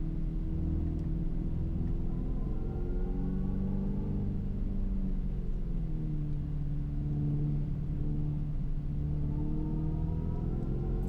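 A 2025 Dodge Charger EV accelerating on the Radford Racing School track in Chandler, Arizona, a steady synthetic engine-like drone whose pitch rises and falls smoothly throughout, close and continuous.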